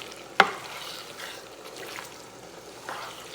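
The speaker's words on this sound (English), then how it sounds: "I'm going to stir it up" Melting food is stirred in a Ninja Possible Pro Cooker: one sharp scrape of the utensil, then soft intermittent swishing and a faint sizzle, quiet and close.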